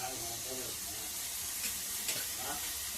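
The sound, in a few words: mushroom curry masala frying and being stirred in oil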